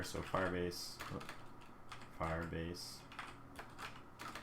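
Typing on a computer keyboard while coding, a quick run of clicking keystrokes heard under a voice talking through the code.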